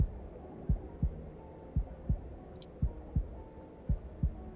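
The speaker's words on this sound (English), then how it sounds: "And you hear your heartbeat" A steady heartbeat sound effect in a tabletop role-play scene, deep low thumps in paired beats repeating evenly for several seconds, with a soft hum beneath and no talking.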